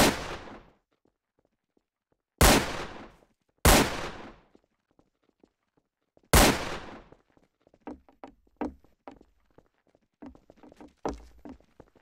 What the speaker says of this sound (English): Somebody was shooting somewhere.